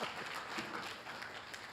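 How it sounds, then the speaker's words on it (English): Audience applause at a police awards ceremony, a steady dense wash of many hands clapping in a hall, fairly faint and continuous throughout. "So give another round of applause."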